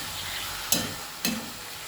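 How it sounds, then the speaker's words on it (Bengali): Potatoes sizzle in a frying pan under a steady hiss. Two sharp scraping clacks of a spatula cut through it about half a second apart. "আলুগুলো দিয়ে আমি ভালো করে নাড়াচাড়া করছি"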